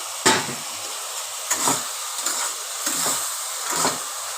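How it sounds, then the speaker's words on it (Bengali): Whole pointed gourds are stir-fried in a pan with spice paste, giving a soft sizzling hiss under four or five distinct scraping spatula strokes spaced about a second apart. "এবার আমি পটলগুলো দিয়ে ভালো করে মশলার সাথে কষিয়ে নেব"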